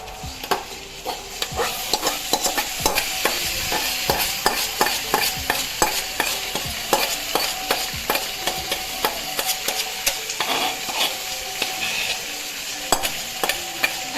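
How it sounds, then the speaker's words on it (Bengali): Marinated chicken tipped onto browned fried onions in a pan, a steady loud sizzle broken by repeated sharp scraping strokes of a spoon stirring the pieces, close and with no talking. "ব্রাউন করে ভেজে নিয়েছি পেঁয়াজটা এবার ম্যারিনেটেড চিকেনটা দিয়ে দিচ্ছি"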